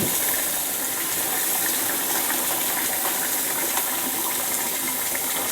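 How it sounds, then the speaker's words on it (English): Cold water runs from a kitchen faucet in a steady close gush, a continuous bright hiss with no breaks and no talking. "Got cold water running down the faucet, as Jennifer's taught me to do."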